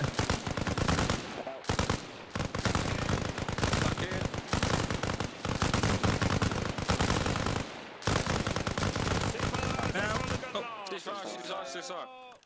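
A GPMG machine gun fires at targets in a military exercise in rapid, loud, sustained bursts with short pauses, and a voice speaks at the end as the firing stops.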